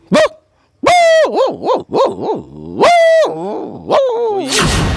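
A voice imitates dogs barking and attacking: a loud, close string of growly barks and yelps comes in quick bursts, ending in a rough snarl.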